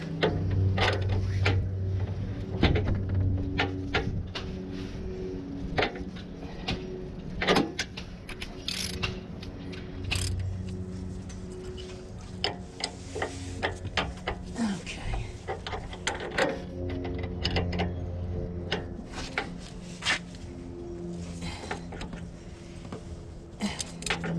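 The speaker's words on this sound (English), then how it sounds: "Trying to get my torque wrench set here. Okay. Get some torque on them." A torque wrench tightens the front sway bar end links on a 4th-gen Ram 1500 4x4, giving rapid bursts of close, dry ratcheting clicks with brief pauses between them.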